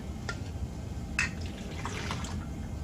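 Water from the tank of a piezo-ultrasonic therapy unit is poured out, giving faint trickling and dripping with a few brief splashes in a quiet room.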